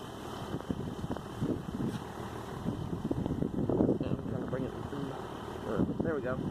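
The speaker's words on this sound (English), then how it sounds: "you can hear it's still windy." Strong gusting wind during a snowstorm buffets the microphone with a continuous roar, while a voice talks over it throughout.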